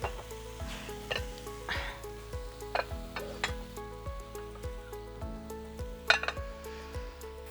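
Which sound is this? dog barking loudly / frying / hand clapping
frying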